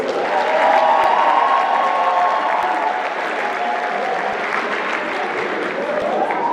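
A round of applause fills the hall at a netball championship closing function and awards ceremony, dense sustained clapping from a sizable audience with a faint tonal hum running underneath throughout.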